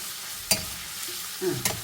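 Crushed ginger and garlic fry in a pan, being prepared for a beef pot roast. A soft, steady sizzle runs underneath, and a couple of sharp utensil clacks mark the stirring.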